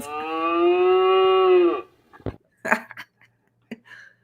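A single long, loud, close cow moo used as a sound effect swells and holds for almost two seconds, then breaks off into a few short clinks and knocks, with no talk.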